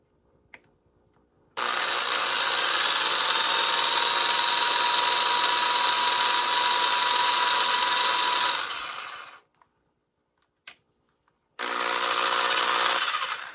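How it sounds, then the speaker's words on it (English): A small drill bores into the thin wing of an anime figure, a steady high whine running for about eight seconds, cutting off, then starting again after a short pause. "So now I'm going to drill the hole into the wing."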